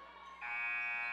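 A basketball game buzzer in a high school girls' gym sounds to end the third quarter, a single loud, sustained electronic tone that starts abruptly and holds steady, with no talk over it.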